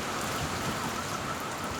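Steady hurricane rain during Hurricane Eta in the Cayman Islands, a dense continuous hiss of rainfall on surfaces, loud and unbroken throughout with no voices.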